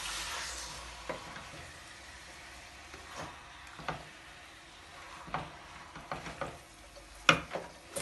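Chicken pieces and liver fry in a pan for lemon chicken, giving a faint, steady sizzle broken by occasional soft clicks and stirring knocks.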